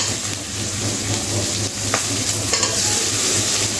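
Chopped tomatoes hit hot oil in a river fish curry, giving a steady loud sizzle with stirring scrapes and a couple of sharp clinks, close up and with no one talking.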